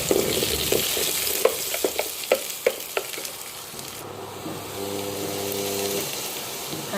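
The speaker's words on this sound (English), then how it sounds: "I am adding 1 dry red chilli, 1 onion finely sliced. Fry well till the onion is golden brown." Dry red chilli and finely sliced onion fry in hot oil in a single pot, a steady close sizzle with a few sharp stirring clicks, then a lower, calmer frying hiss alone.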